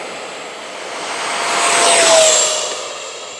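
An E-flite F-16 Thunderbirds 80mm electric ducted-fan RC jet at full throttle for takeoff, a loud rising whoosh and whine that swells to a peak as it passes close, then begins to fade.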